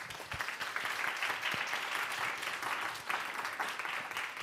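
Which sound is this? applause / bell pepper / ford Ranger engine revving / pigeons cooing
applause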